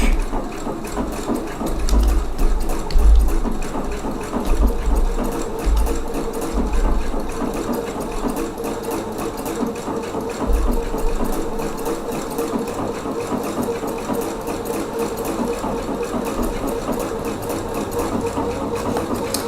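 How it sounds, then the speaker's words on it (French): A sewing machine needle stitches through fabric with a steady, continuous mechanical whir and rapid rhythmic chatter, close and fairly loud throughout with no voices. "on voit bien là l'aiguille qui fait un va-et-vient parce qu'elle a des ailettes et elle écarte vraiment les fibres du tissu"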